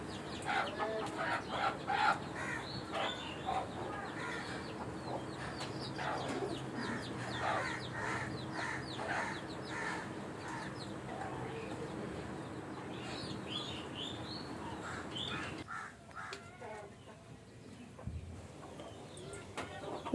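Desi hens on a farm cluck and chatter while being fed greens, a busy, irregular flock sound at close range with occasional chirps, thinning out near the end.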